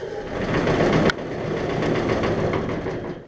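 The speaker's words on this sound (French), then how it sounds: "Un test du tarare." A tarare winnowing machine sorts alfalfa seed with a steady, loud mechanical whir and rattle that runs throughout, broken by a sharp knock near the start.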